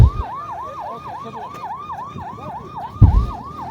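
A wailing ambulance siren at the scene of an accident involving the presidential motorcade in Kananga, DR Congo, sweeps up and down in a steady, rapid rhythm, fairly close, with a heavy thump of traffic rumble near the end.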